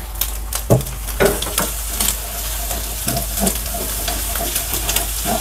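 Ground spice paste frying in a pan, a steady close sizzle and hiss with a few sharp stirring scrapes and clatters of a utensil against the pan scattered over it.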